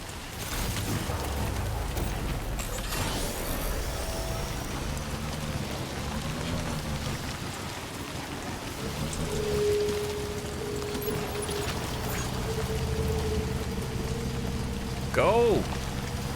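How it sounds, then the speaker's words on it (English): Timefall rain in the video game Death Stranding 2 falls steadily and patters over the whole stretch. Quieter game sounds and a few brief tones sit underneath it. "we're kind of just sitting in timefall over here"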